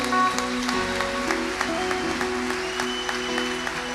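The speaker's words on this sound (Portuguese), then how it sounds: "Dá uma salva de palmas a Ele." A church congregation claps together in steady, continuous applause during a worship service, with sustained music playing underneath.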